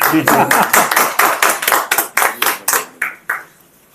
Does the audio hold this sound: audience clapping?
yes